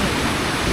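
Jog Falls in Karnataka roars as a broad, steady rush of falling water, loud and unbroken throughout the short moment.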